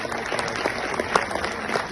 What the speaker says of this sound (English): a round of applause for our President of FEDESSA